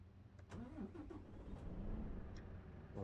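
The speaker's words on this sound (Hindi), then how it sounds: "वॉल्वो की ट्रक की आवाज़ बहुत क्रेजी होती है, बहुत मस्त होती है" In Euro Truck Simulator 2, a Volvo truck's engine cranks with a few quick clicks, then catches and settles into a steady, rumbling idle, faint and alone.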